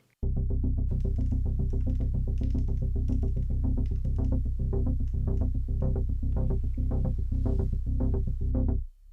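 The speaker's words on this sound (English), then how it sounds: "applying a sine wave LFO brings this pulsing sound as the filter cutoff is opened and closed" A deep, sustained synth bass line with a steady, rhythmic pulsing from a sine wave LFO opening and closing the filter cutoff, its tone sweeping brighter and darker, playing continuously and loud.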